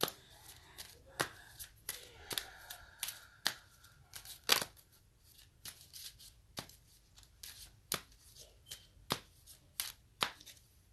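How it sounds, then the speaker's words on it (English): A deck of cards being shuffled close up, a run of crisp riffles and snaps coming in irregular bursts, with quiet pauses between them and no talking. "Because I'm just shuffling, and that's the same card that just popped out."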